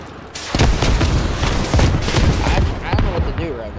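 Rocket explosions pummel the area in a war video game: heavy booms and rapid gunfire crash close and loud in a near-continuous barrage, with a voice briefly audible under the din.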